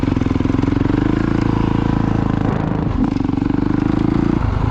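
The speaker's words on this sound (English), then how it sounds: "get out to the engagement point, a little more throttle, and we're good to go" A 2020 Honda CRF450R dirt bike engine idles loud and close, then takes more throttle and pulls away with a steady raspy drone and a brief dip mid-way.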